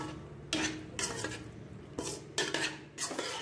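Yogurt being stirred in a bowl with a spoon, bursts of scraping and clinking strokes coming in rhythmic rounds, close and fairly quiet.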